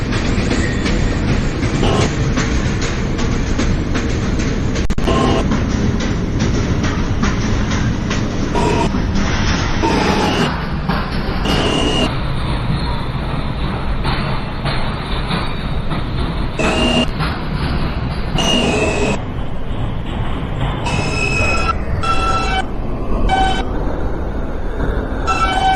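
A Manhattan-bound NYC subway J local train runs near Alabama Avenue, its steady loud rumble and rattle continuing throughout with repeated high metallic wheel squeals rising over the roar.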